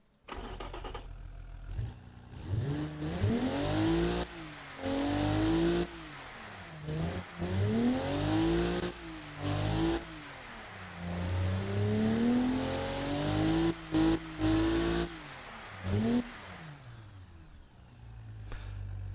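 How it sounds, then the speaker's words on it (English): A 3-litre turbocharged straight-six in a 90s Japanese sports car in BeamNG Drive starts up and is revved repeatedly, each loud rising and falling rev separated by short drops back toward idle. "We're going to have a listen to our 3-litre turbocharged straight 6."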